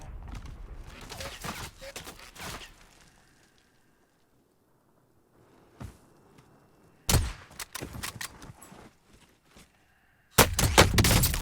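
Sniper fire in the video game Warzone: clusters of sharp, loud shots and crackling bursts, split by a quiet lull, with a final heavy blast at the end.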